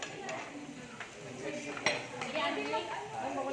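Plates and dishes clink and clatter at a home retirement gathering, with several sharp knocks among a busy background of chatter and voices close by.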